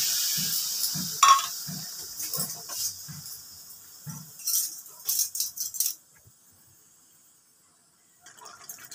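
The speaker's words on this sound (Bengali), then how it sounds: "এবার আমি এক বাটি ঝোল হিসাবে এক বাটি জল দিয়ে দিচ্ছি।" A bowl of water is poured into a pan of chapila fish curry on a gas stove, giving a splashy pour and a burst of sizzling, followed by quiet, then a faint hiss returning.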